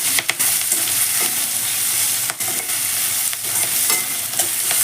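Onions sizzle steadily in a hot pan with salt for an okra fry, broken by repeated scraping and clattering strokes as a spoon stirs them, loud and close with no talking.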